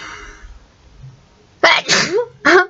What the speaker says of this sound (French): Ça me chatouille la gorge et ça me fait éternuer.